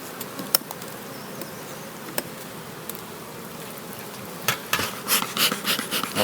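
Honeybees buzzing around hives in an acacia apiary while supers are added, a steady close drone with scattered clicks and knocks of hive equipment, growing busier toward the end.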